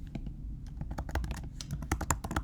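Fingers type quickly on a computer keyboard, a dense, fairly soft run of close key clicks and taps with no pause.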